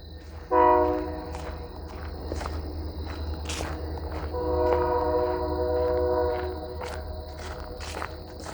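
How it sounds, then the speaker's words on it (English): A train rumbles past with a steady low roar and clanking wheels, a few sharp metallic hits and squeals rising above it. "Well, now it's a train video."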